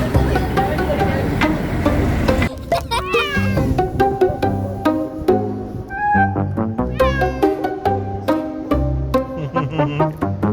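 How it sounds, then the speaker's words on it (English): A cat meows repeatedly in short, insistent cries, close to the listener, some rising and falling in pitch. "How come you're meowing so much, Chesney?"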